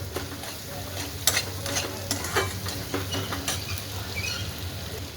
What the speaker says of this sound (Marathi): मिरची कच्ची घेतल्यामुळं पूर्ण तेलामध्ये छान अशी बारीक गॅसवर भाजून घेऊया आपण